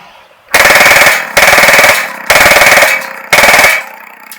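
Four loud bursts of full-auto fire from a Baikal Drozd Blackbird IZH MP-661K BB machine gun outdoors, each a rapid metallic stream of shots lasting about half a second with short gaps between.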